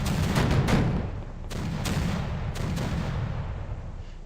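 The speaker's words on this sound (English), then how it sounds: "cruisers shooting" Cruisers firing their guns in the naval video game Victory at Sea Pacific, a few loud, booming salvos with rumbling reports that roll into a continuous low roar of battle, no talk.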